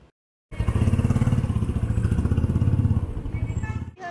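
Motorcycles on a group ride by a West Bengal riders meet rev and pull away close by, a loud pulsing engine drone that rises sharply after a brief silence and fades near the end.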